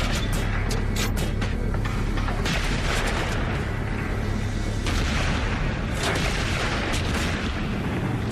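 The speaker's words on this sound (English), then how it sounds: "The creeping barrage is effective." A WWI creeping artillery barrage thunders without pause, with dense overlapping booms and sharp cracks layered over a constant heavy rumble, loud and close, with no voices.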